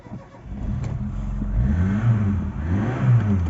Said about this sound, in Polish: Silnik pali.